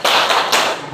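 A classroom of pupils clapping the "tepuk hebat" chant, dense overlapping hand claps in a steady burst lasting the whole moment, loud and close with a brief dip midway.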